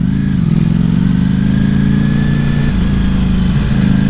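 A 2018 Ducati Panigale V4 sport bike under way, its engine a loud, steady, close growl that holds at one pitch throughout, with a slight dip near the end and no voices over it.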